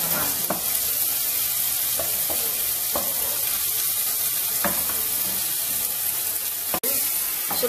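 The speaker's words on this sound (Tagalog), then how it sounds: "Lutuin muna po natin ang kamatis." Chopped tomatoes frying in a hot pan, a dense continuous sizzle with occasional stirring scrapes and one sharp clack near the end, close and loud.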